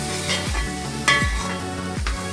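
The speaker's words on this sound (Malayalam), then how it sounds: "ഇതിലോട്ട് ഞാൻ ഒരു 3 ടേബിൾ സ്പൂൺ മല്ലിപ്പൊടി ചേർത്ത് കൊടുത്തു. ഞാൻ ഇളക്കുകയാണ്." Three tablespoons of coriander powder stirred into a frying masala for a duck mappas curry: three distinct scraping spoon strokes over a steady close sizzle, with no voices.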